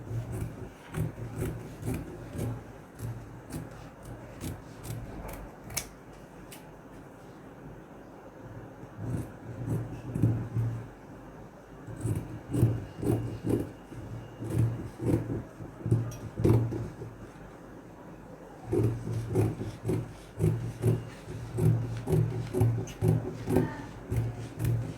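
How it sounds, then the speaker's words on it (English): Scissors cut organza fabric at close range, making quiet, intermittent snips and soft rustling scrapes in uneven bursts. "I'm going to cut out, making sure that I have half an inch"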